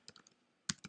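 Quiet, close keyboard typing: a few soft key taps, a pause, then a quick cluster of sharper keystrokes.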